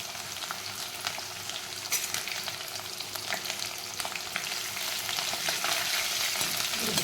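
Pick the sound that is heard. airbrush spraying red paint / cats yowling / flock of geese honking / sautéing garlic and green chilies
sautéing garlic and green chilies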